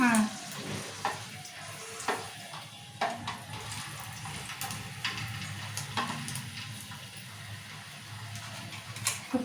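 Star anise dropped into hot oil at the start of a mutton curry, giving a close, steady crackling sizzle with scattered sharper pops throughout. No one speaks.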